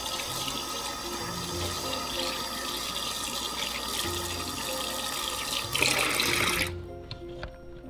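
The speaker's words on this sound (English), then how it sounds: "And now, Sam, you should turn on the faucet." Water gushes steadily from a turned-on tap into a sink, loud and close, then cuts off abruptly near the end, leaving faint room noise.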